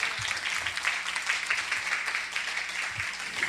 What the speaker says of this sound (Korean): 그럼 이 대목에서 한 번 더 박수 쳐도 돼요